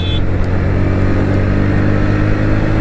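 A Honda NS125 motorcycle engine revving above 5,000 RPM, a steady continuous drone held at high engine speed, fairly loud and close with no talking.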